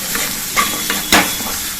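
A pan of stuffed kakora with coriander powder, red chilli and Kashmiri chilli sizzles steadily while a spoon stirs it, giving occasional clinks and scrapes close by, with no voices.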